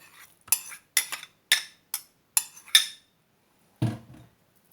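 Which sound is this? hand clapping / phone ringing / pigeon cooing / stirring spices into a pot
stirring spices into a pot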